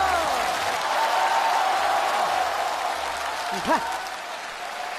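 Audience applause fills the hall at the 2023 Liaoning TV Spring Festival Gala as a sketch act is introduced, a dense steady clapping wash with a voice speaking briefly over it.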